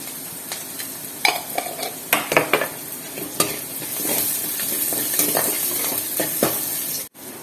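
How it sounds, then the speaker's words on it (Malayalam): Onions sautéing with turmeric in a pan for a chicken dish: steady sizzle with repeated scraping stirs and utensil clinks against the pan, close and fairly loud, no talking. "എന്നിട്ടൊന്ന് വഴറ്റിയെടുക്കാം"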